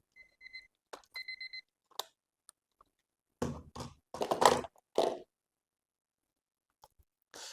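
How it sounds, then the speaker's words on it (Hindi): A beeping alarm goes off in short repeated bursts of high electronic tones, followed by someone talking at close range. "अलार्म बंद कर दूंगी, बार बार बज रहा"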